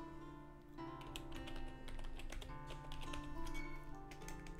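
Rapid typing on a computer keyboard while playing a game, quick clusters of close, crisp key clicks, fairly faint, continuing without a break and with no talking.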